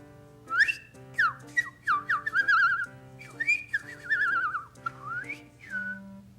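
A person whistles a warbling, birdlike tune in short trilling phrases, close and clear, imitating birdsong.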